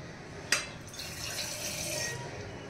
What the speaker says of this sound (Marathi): थोडंसं आपण पाणी त्यात टाकून दिलेलं आहे.